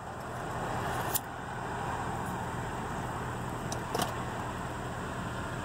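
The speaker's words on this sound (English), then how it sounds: "so I'm breaking loose that back right tire" A Ford vehicle spins its back right tire loose on pavement, a steady broadband roar of engine and tire lasting throughout, fairly close, with a couple of brief sharp clicks or chirps along the way and no talk.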